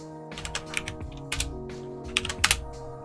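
Quick keystrokes as a password is typed on a computer keyboard, a close, uneven burst of clicks with short pauses and no talking.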